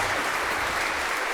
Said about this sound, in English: Just give Claire an applause